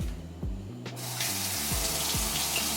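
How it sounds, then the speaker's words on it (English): Tap water running into a kitchen sink while Atlantic salmon is rinsed, a steady close splashing hiss with a low rumble and shifting gurgling tones as the flow hits the fish. "So what I'm going to do now is rinse the salmon"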